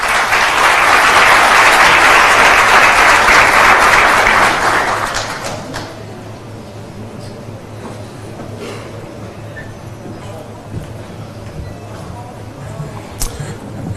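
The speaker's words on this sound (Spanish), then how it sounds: "a quien recibimos con un fuerte aplauso" Loud applause from a business-executives conference audience welcoming former Dominican Republic president Leonel Fernández, sustained clapping that fades out after about five seconds into quiet room noise with scattered small sounds.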